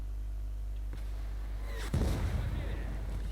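A tank cannon in War Thunder, on a T-72B3 with active protection, fires in a sudden loud blast at about two seconds, followed by a rumbling decay over a steady low engine hum.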